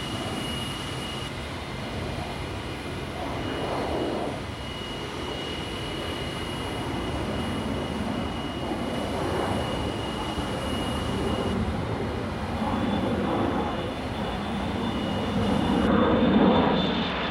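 A North American XB-70 Valkyrie bomber rolls and lifts off on an early autumn morning, a steady loud broadband jet roar with a faint whine that swells slightly toward the end.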